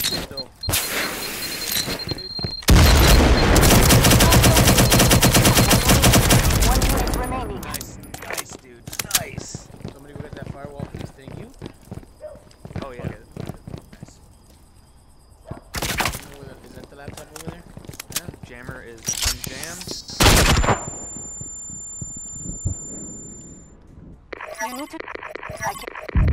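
In a shooting video game involving C4 and a hack, loud bursts of gunfire and explosive blasts break out in clusters amid game sounds, with someone talking over much of it.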